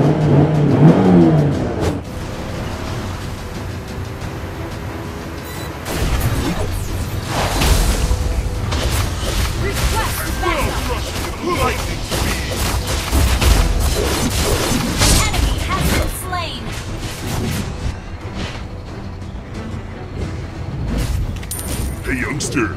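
Video game combat as a turret is destroyed: loud, dense bursts of explosions, rumbling booms and rapid gunfire that continue for a long stretch, with engine-like roaring mixed in and no clear speech.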